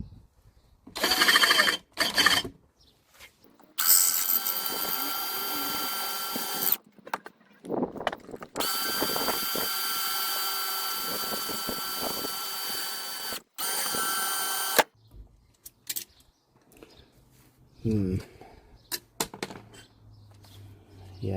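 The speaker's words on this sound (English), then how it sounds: "Yes, that drill bit has had quite a bit of use." A drill bores into the metal chassis of a 1940s Bell 3710A PA amplifier being converted, in several loud bursts of whining, grinding noise separated by pauses, close by, with brief clicks and handling noises between.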